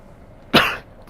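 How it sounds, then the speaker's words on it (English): A single sharp, explosive burst from one person, like a sneeze, loud and brief against a quiet background. "Excuse me, had to sneeze."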